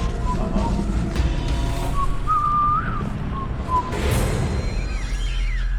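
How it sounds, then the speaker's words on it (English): A whistle sound effect laid over a reality dating show scene, with a wavering tune that slides up and down in pitch above a steady background hum. "this weird whistle edit the Bachelor people threw on top of it"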